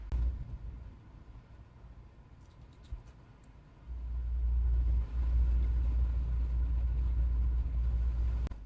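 FMS FCX24 Pro K5 Blazer brushless RC crawler driving in high gear, a quiet low whir at first that swells into a louder steady motor rumble midway and holds to the end.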